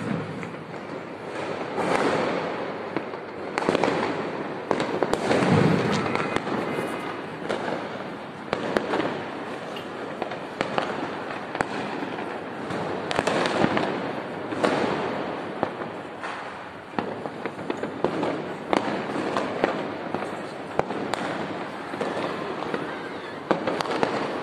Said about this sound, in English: Let's zoom in so you can see the fireworks clearly.